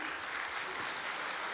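An audience claps at a silver jubilee celebration at Gyan Sarovar, a dense, steady wash of many hands applauding together, even and sustained throughout.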